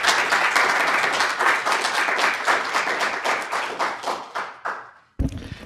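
Sustained crowd applause from a lecture audience welcoming the speaker, dense and steady clapping that thins into scattered claps and fades out near the end.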